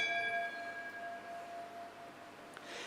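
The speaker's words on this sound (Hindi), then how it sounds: "जब क्लास चल रही हो ना तो घंटी नहीं बजाया करो।" A ringing bell with bright, sustained metallic tones that slowly fade, heard during a Mangal Aarti lecture, likely from a temple, in a reverberant room without talking, with a soft clatter near the end.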